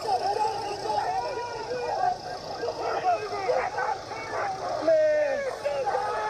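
A police K-9 dog barks and yelps repeatedly during a struggle with a man, the sharp, agitated barks mixed with overlapping shouting voices and crowd commotion.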